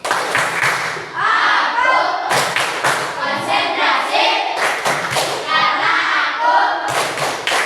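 Children in a classroom clap along in a rhythmic clapping game, with loud, close groups of claps and thuds recurring steadily while young voices chant over them.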